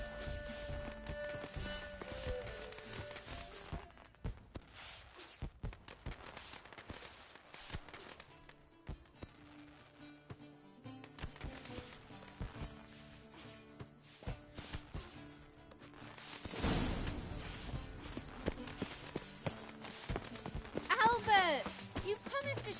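Horse hooves clip-clop steadily in The Witcher 3, a fairly quiet run of hoof taps that grows louder near the end, mixed under ongoing voices.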